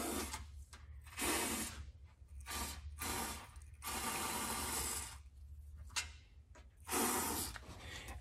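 Spray gun applying Woolwax undercoating beneath a vehicle, a broad hissing spray in repeated bursts of about one to two seconds separated by short pauses, close and fairly loud over a low steady hum.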